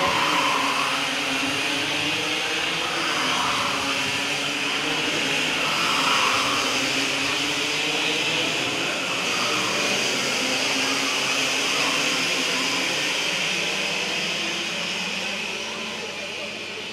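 Cadet go-kart engines drone past during a karting championship round in Singapore, a steady loud buzzing whine with rising and falling engine pitch under a commentator's voice.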